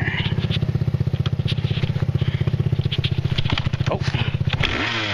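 An off-road vehicle drives in gear through backwoods, its engine throbbing in a loud, steady rhythmic pulse close by, with scraping and crackling from the terrain and a shift in tone near the end.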